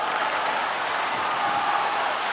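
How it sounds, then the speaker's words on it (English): A video game hockey arena crowd applauds and cheers in NHL 23, a loud, dense, continuous wash of clapping and crowd noise with no break. "the crowd's on their feet, saluting the team after a hard-fought effort this evening"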